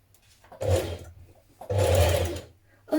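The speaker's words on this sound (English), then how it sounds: "We're now going to stitch that in place around the neckline." Sewing machine stitching around the neckline of a summer dress bodice, sounding in two sustained bursts of steady motor whirr separated by a pause, with another run starting at the end.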